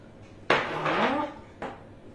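A spatula works chocolate batter in a bowl, producing two sharp scraping knocks against the bowl, the first followed by a longer scrape, close and fairly quiet.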